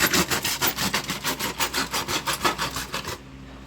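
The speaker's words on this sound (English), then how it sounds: "I am sharpening it." Quick rhythmic rasping strokes of something being sharpened beside a bushcraft coal cooking fire, about a dozen even back-and-forth scrapes close to the microphone before stopping abruptly.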